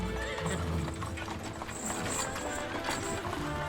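Horses pulling covered wagons, steady clip-clopping hooves with a horse neighing, moderately loud and layered over a rumbling background.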